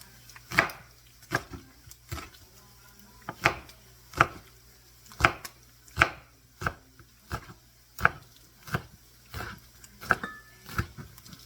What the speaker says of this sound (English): And then just chop them up real fine.